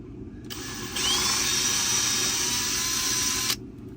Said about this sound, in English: Now I'm going to drill these holes out a little bit bigger